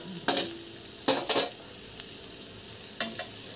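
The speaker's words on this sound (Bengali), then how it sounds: "দিয়ে সব আবার একটু ভেজে নেব" Carrot, beans and capsicum stir-frying in a pan, with a steady low sizzle and several brief stirring scrapes spaced across a few seconds, fairly quiet and free of speech.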